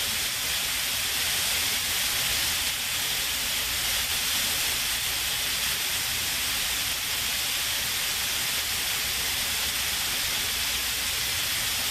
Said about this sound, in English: So for me, I let the meat sit and cook.